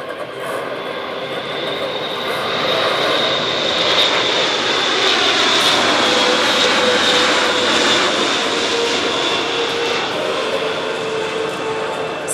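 An Airbus A400M Atlas military transport aircraft flies a tactical airshow display, its turboprop drone swelling as it passes and holding a loud, steady roar with a faint whine over it.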